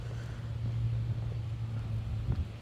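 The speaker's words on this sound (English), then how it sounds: "a little windy" Steady wind buffeting a microphone on a Friday afternoon walk, a continuous low rumble with slight gusts, no talking.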